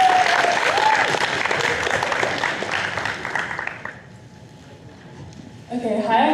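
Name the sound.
audience applause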